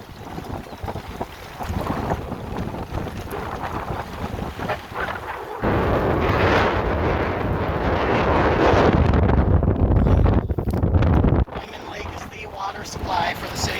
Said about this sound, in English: I know it's windy, but I'm really surprised by how rough the water is